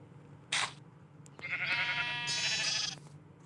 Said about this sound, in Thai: แกะตรงนี้ผสมพันธุ์ไปแล้ว